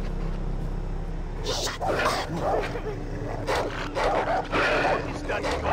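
Dogs barking in the jungle island setting of the video game Far Cry 3, with several rough barks and yelps in quick bunches over a steady ambient hum and music bed, moderately near.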